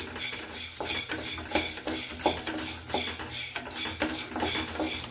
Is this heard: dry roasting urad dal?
yes